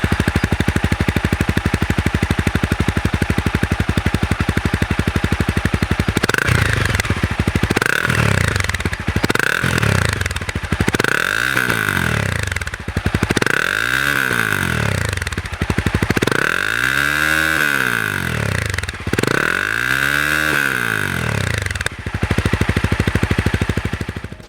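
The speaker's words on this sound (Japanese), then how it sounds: "エンジン音といいますか、マフラーの音についてはこんな感じです。" A Honda CBR250R MC41 single-cylinder engine with a Moriwaki full exhaust idles loudly and steadily at first, then is blipped through several sharp revs that rise and fall in sequence, each one ending back at a throbbing idle.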